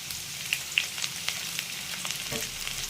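Chopped onion and a sprig of curry leaves hit hot oil for lemon rice, giving a close, crackling sizzle with a few sharp spits and brief stirring scrapes, no talking.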